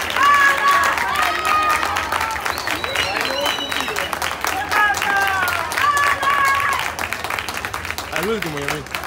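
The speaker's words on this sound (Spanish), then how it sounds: "Fuerte aplauso para nuestros deportistas máster." A crowd applauds master athletes at the Copa Regatas Lima athletics meet in Lima, Peru, a steady dense wash of clapping that runs throughout, with a voice announcing over it and occasional whistles.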